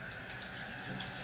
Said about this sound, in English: I'm gonna wash all the syrup off my hands.